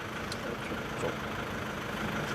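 A 2014 Volkswagen Jetta 1.6 TDI diesel engine runs after a key start, giving a steady, even low idle drone with no clear rise or break.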